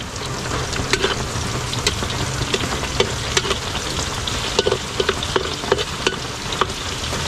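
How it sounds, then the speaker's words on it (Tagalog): Onion and garlic sauté in a hot pan, a steady close sizzle with scattered sharper crackles and spatter pops throughout; no one talks. "Nagisa muna tayo ng sibuyas, bawang."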